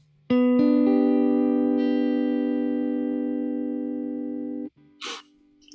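Electric guitar played through a Kemper Profiler with no compressors: one loud, sustained chord rings for about four seconds, fading only slightly, then cuts off and is followed by a brief noisy burst.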